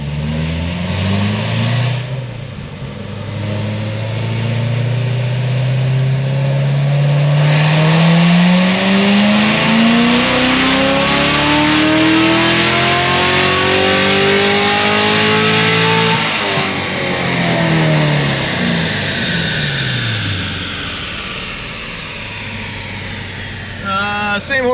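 Car engine on a chassis dyno revving up steadily through a long wide-open pull, pitch climbing for about fifteen seconds before dropping back off, loud and close, with a voice briefly underneath.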